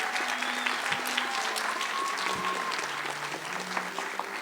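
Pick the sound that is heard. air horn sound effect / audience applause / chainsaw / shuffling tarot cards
audience applause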